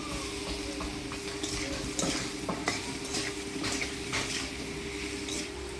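Turmeric, salt and ground spice paste being stirred into hot tempering oil with potatoes, brisk metal scraping against the pan over a continuous low sizzle and a faint steady hum, no voices.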